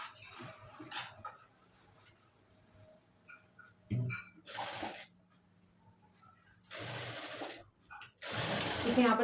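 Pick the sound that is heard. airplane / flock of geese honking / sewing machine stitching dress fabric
sewing machine stitching dress fabric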